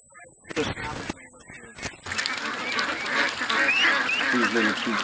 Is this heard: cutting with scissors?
no